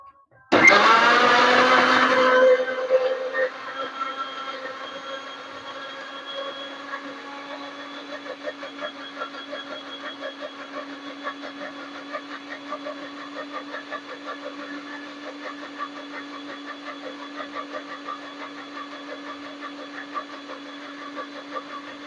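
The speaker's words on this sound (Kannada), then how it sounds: "ಈಗ ಗ್ರೈಂಡ್ ಮಾಡೋಣ ಎಲ್ಲದನ್ನು" A mixer grinder blending mosambi (sweet lime) juice with cold water, loud whirring roar at start-up that settles into a steady motor drone for about twenty seconds, close and alone.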